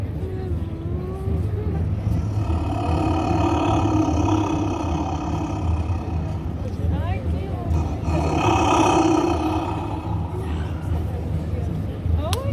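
An Aztec jaguar instrument imitating a jaguar roar is played at a folkloric group demonstration, giving low, rasping roar-like swells over steady crowd noise and nearby talk.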